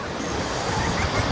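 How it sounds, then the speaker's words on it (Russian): Rough sea waves wash onto the beach at Vityazevo near Anapa, making a steady, close, broadband surging rush mixed with wind buffeting the microphone, with no speech. "Потому что когда море волнуется"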